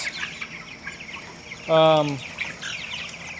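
A single loud, harmonic squawk from a five-week-old pastured Cornish Cross chicken stands out over quieter chirping and clucking in the background.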